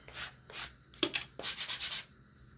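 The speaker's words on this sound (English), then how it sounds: "So I'm going to just take my sanding block. This is a 80 grit sanding block." An 80 grit sanding block rubs over painted wood, a series of about six short, raspy scraping strokes in an uneven back-and-forth rhythm, close and moderately loud with no talking.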